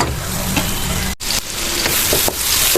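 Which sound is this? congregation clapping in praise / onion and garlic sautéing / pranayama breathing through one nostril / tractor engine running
onion and garlic sautéing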